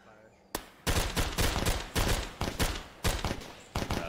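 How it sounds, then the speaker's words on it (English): Rapid gunfire in a video game firefight, loud bursts and volleys repeating in quick succession after a brief quiet start, with faint voices underneath. "We're receiving fire left."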